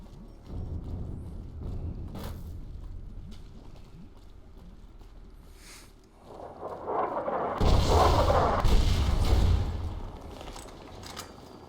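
Gunfire from the Fallout: New California video game, a series of shots and impacts that grows louder and denser partway through, over a steady low rumble, with no talk.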